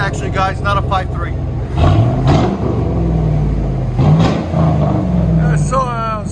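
Close and loud, a straight-piped Chevy Silverado 4.8L V8 gives two quick rising revs over a throaty, rumbling idle.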